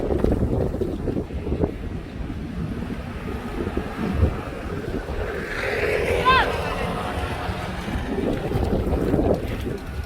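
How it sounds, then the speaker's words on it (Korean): Strong, gusty wind buffets an outdoor microphone in a continuous low rumble, with a whistling gust rising midway and people talking under it. "태풍 아니야 그냥 바람 많이 부는 거래"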